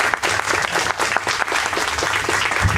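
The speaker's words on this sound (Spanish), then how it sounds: "Un fuerte aplauso a Luis Javier Garrido" A crowd claps steadily and fairly loudly throughout for Mexican political commentator Luis Javier Garrido after a talk on revolution and 2012.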